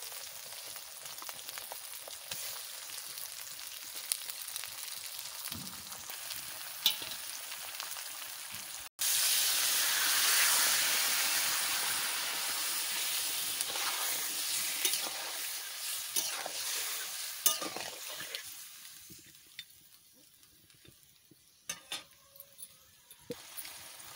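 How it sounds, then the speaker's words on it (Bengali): Pangasius fish pieces dropped into red spice masala and frying, a steady close sizzle that swells into a loud hiss, with stirring scrapes and clicks, fading quieter toward the end, no talk. "মশলা আমার ভাজা হয়ে গেছে লাল লাল করে। এবারে মাছ এক এক করে আমি ছেড়ে দেবো।"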